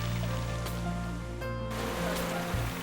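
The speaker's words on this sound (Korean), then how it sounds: "자그락자그락 파도에 휩쓸린 작은 갯돌이 아름답게 마을 앞바다를 수놓고 있는데요." Small pebbles on the shore of Yongchul village on Saengildo island are rolled and tumbled by the sea, a steady close rush of surf with a dense wash of grinding stones, alone without voices.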